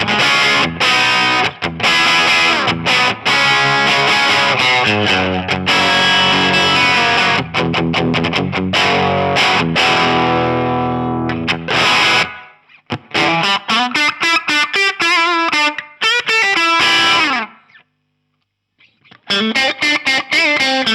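A Telecaster plays through a Marshall Origin 5 tube amp with a boost engaged, giving loud, driven chords and riffs with brief pauses and choppy stops, close and dry with no talking.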